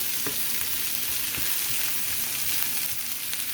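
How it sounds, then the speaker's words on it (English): Chicken and vegetables stir-frying in hot oil over medium-high heat, giving a steady close sizzle and crackle with a few sharp pops throughout. "Get it in that oil. Get it frying."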